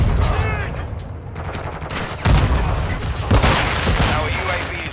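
A stun grenade bangs loudly amid scattered gunfire in the video game Call of Duty: Modern Warfare II, with radio-style voices talking throughout the dense, noisy firefight.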